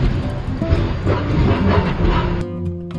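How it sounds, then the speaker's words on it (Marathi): A Konkan Railway train rolls on during a monsoon journey in Maharashtra, heard from on board with a heavy rumble and rail clatter that abruptly changes character as it enters a long tunnel. "या धबधब्याच्या जरासं पुढे आपण आता कोकण रेल्वेच्या या सर्वात लांबीच्या बोगद्यात प्रवेश करतोय."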